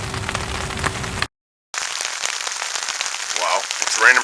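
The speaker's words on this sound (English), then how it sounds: "Wow, it's raining pretty good now." Heavy rain falling outdoors, a dense continuous hiss of drops on surfaces, cut by a brief gap, then resuming strong and close with a few louder patters.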